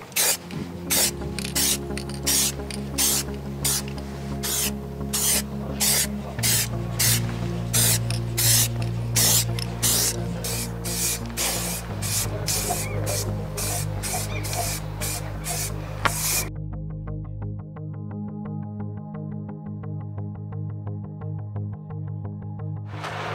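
Antifouling paint being sprayed onto a motorboat's drive, with repeated short hissing bursts from the spray gun in a steady rhythm, close and fairly loud, then a quieter hum once the spraying stops.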